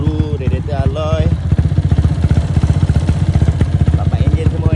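A Yamaha Y15 V1 motorcycle with an upgraded 68 jet 6 engine spec runs close and loud, its rapid pulsing exhaust throbbing steadily with small rev surges throughout.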